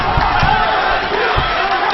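A boxing crowd roars and cheers at a live fight, a dense, loud wall of voices with a few thumps and shouts rising out of it.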